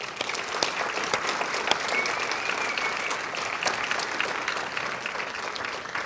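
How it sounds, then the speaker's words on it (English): Steady applause from an audience at a corporate CEO Awards of Excellence ceremony, many individual claps crackling through a sustained ovation that holds for several seconds, fairly close and alone. "A big round of applause."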